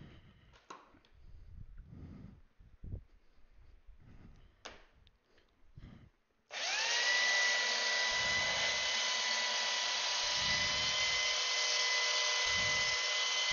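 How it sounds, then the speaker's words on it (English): A workshop fan switched on at its low setting kicks in partway through and keeps up a steady, loud whooshing hum, broken only by a few low thumps. Scattered quiet clatter of handling comes before it starts. "turn the fan on just to keep the dust blowing towards the back of the workshop"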